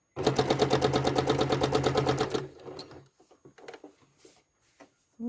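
Sewing machine stitching serpentine quilting lines, a fast even run of loud, close needle strokes for about two seconds, then stopping, followed by faint handling noises.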